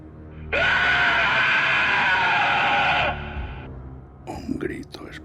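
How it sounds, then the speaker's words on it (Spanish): A terrifying, piercing scream from a Spanish-language horror audio drama holds loud and steady for about two and a half seconds, then fades into quieter eerie moans and breathy cries. "un grito espantoso como nunca se había oído ensordeció cualquier sonido de la noche"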